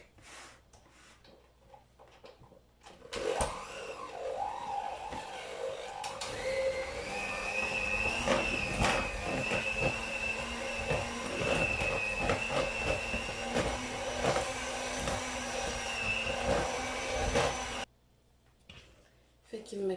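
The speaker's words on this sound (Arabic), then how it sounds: "فكما كتشوفوا انا هنا صافي طربتها، فكيجي القوام ديالها يعني زوين بزاف." Electric mixer beating cake frosting for a birthday cake, a loud steady motor whir with a rattling, clattering texture that runs for about fifteen seconds before cutting off abruptly, with quiet moments before and after.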